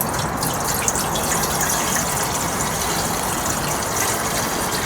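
Water pours steadily into the tank of a wet tile saw used for cutting deck boards, a loud, continuous close gush that holds unbroken throughout, with no speech.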